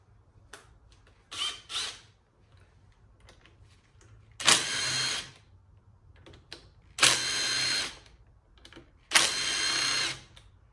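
A power tool with an 8 mm socket spins out transmission valve body bolts during an LS swap transmission rebuild, giving four or five close, loud whirring bursts of a second or so, separated by quiet pauses and small clicks.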